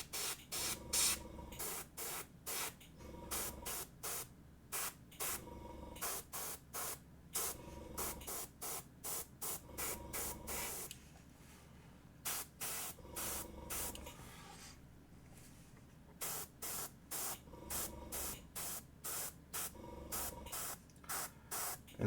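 An airbrush sprays paint onto a miniature toy in short repeated bursts of hiss, each lasting a fraction of a second with brief pauses and a longer gap midway, close and clear with no talking.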